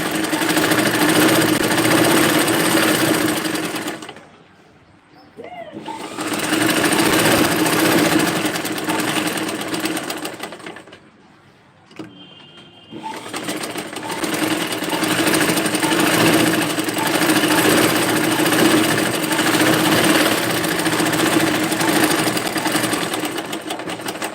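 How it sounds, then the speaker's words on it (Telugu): A sewing machine stitches the corner of a dress, running in loud, steady mechanical bursts with two short pauses where the motor stops before resuming continuous stitching. "అందుకే నేను ఇంకొకసారి కుడుతున్నాను అనమాట, ఇక్కడికి లాస్ట్ దగ్గర కార్నర్ దగ్గర."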